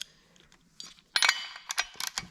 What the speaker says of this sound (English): 3/4 inch socket on the spark plug.